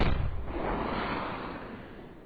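A loud launch blast from a Vorona rocket launcher firing in Arma 3, a broad roaring burst at the start that trails off into a long fading rumble, with no speech.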